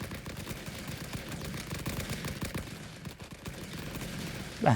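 Gunfire in the Great War sandbox game Rising Front, a dense continuous fusillade of overlapping shots and distant booms at moderate volume, with a sharper blast right at the end.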